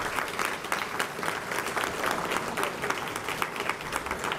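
Audience applause following a live music performance at a talk, a steady dense patter of many hands clapping throughout, fairly close and even in loudness with no voices over it.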